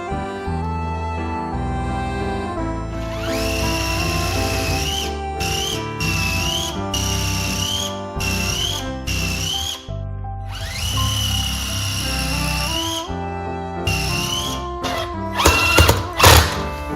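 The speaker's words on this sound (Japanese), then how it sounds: "ここと、あとこっち側2箇所、下穴を開けたいと思います" Power drill boring pilot holes into a wooden storage box built for the space under a staircase, running in several short bursts with pitch rising as it spins up, close and loud over a background of music.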